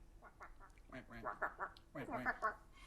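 A duck quacking in a swamp, two quick bursts of nasal, rhythmic quacks, close and clear, the second burst louder than the first.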